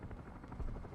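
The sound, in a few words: helicopter flying in a video game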